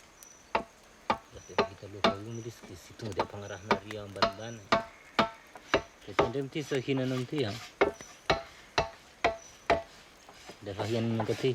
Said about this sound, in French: Il taille les poignets dans la masse.